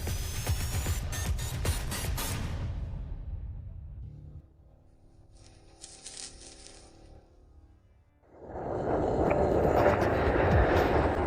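An airliner in flight arriving at Westport International Airport gives a broad cabin roar that fades to a quiet low drone midway, then swells back to a loud, steady rush.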